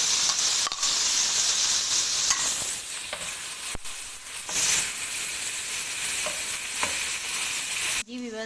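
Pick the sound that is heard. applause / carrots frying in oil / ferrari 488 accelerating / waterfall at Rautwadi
carrots frying in oil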